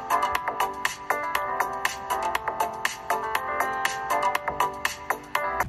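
Music played through the loudspeaker of a Samsung Galaxy A22 5G phone, a bright rhythmic tune with regular plucked beats, steady and fairly loud, with no talking.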